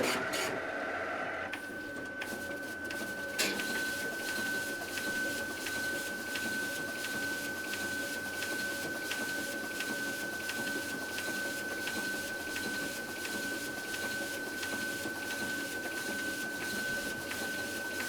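A county's new electronic ballot machine drawing a ballot through its feeder, a steady mechanical whir with an even high whine and regular faint ticks, continuous and close.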